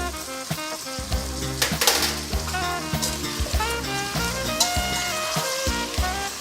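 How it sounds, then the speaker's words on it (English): Potatoes and onions sauté in a pot for an Indian potato and pea soup, giving a soft continuous sizzle with a few stirring clinks under steady background music. "we're going to add our potatoes and onions. And all we're going to do is let this saute around a little bit"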